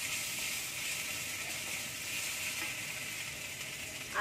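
Garlic paste dropped into hot oil with fried onions sizzles in a steady, bright hiss that holds evenly throughout, close and alone with no voices.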